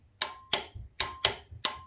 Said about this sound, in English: just to listen to the relay, make sure it's clicking first of all